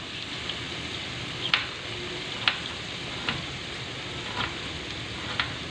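Minced meat (qeema) fries in a pan with a continuous, close hiss, punctuated by five evenly spaced sharp pops or taps about a second apart.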